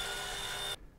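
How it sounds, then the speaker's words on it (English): A full-size drill bit bores holes into a computer case, giving a steady, loud, high-pitched whine that runs without a break and then stops abruptly, leaving quiet. "I then used a full-size drill bit to cut out the holes."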